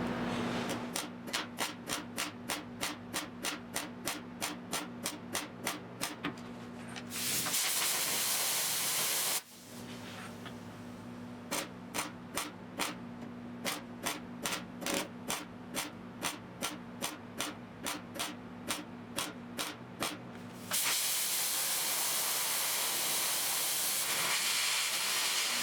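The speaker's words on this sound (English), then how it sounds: "That wasn't the most comfortable position for welding" Welding on the passenger door of a 1972 Triumph GT6 during restoration: rapid regular bursts of crackling arc in two long runs, separated by steady hissing gaps, close and loud with no talk.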